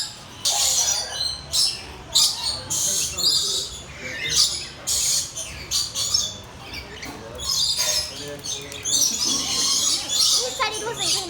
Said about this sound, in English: These birds are a lot louder.